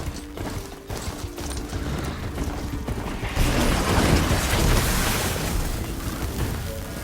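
Riding a fast mechanical Strider in the game Horizon Zero Dawn Remastered, with dense clanking gears and ratcheting machine movement that swells louder partway through, continuous and close.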